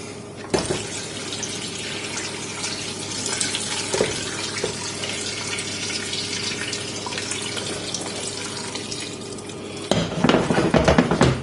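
Water pours steadily from a tap into a large pot of chicken bones and peppercorns for stock, a continuous close splashing rush with a brief clatter near the end as the pot shifts.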